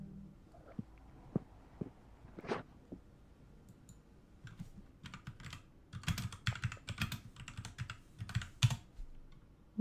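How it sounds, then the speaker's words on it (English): Rapid, uneven clatter of keys on a computer keyboard, starting faint and sparse and then building into dense bursts of close, clicky typing, with no voices. "What are you typing?"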